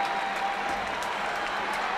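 Crowd ambience recorded in a large sports stadium, used as a sound effect: a broad, steady wash of crowd noise and scattered clapping with an even, continuous level.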